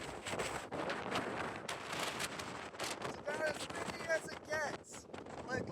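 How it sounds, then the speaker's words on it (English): Strong wind gusts in a cold desert batter the microphone with rough, roaring bursts that rise and fall, loud and close, while a person talks underneath. "It is breezy!"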